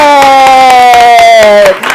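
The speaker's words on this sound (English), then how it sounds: "Let's give Luna a round of applause." Participants at a movement workshop clap in quick rhythmic bursts while a loud voice cheers over them in a drawn-out tone. The cheer cuts off near the end.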